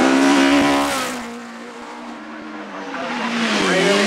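A Westfield Vauxhall race car on a hillclimb run at Shelsley Walsh roars loudly, its engine pitch falling as it passes and then climbing again as it accelerates away.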